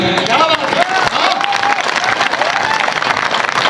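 An audience at a Hindi poetry recital (kavi sammelan) in Etawah applauds steadily and loudly throughout, dense clapping with a few cheers, while a voice carries on over it.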